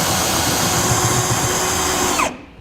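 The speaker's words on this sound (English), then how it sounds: "I have a 5/8 drill bit here. I'm just going to go right into the center of that hole" A power drill with a 5/8-inch bit bites into the center of a hole in a 2016 Chevrolet pickup bed to mark it for a gooseneck hitch, whirring loudly and steadily before cutting off abruptly.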